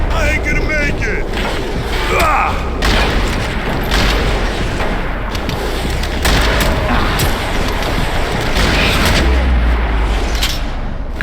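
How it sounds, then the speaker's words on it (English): Heavy bursts of gunfire and booming blasts crackle throughout amid a dense, noisy battle din, loud and continuous, in the video game Max Payne 3. "Gunfire over Hoboken."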